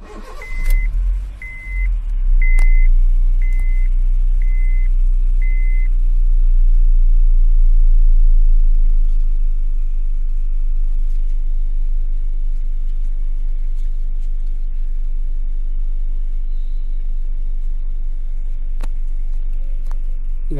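A Honda car with a power steering torque sensor fault idles close by, a low steady engine rumble running throughout after a brief rise at the start, with a few faint electronic beeps early on and no talk.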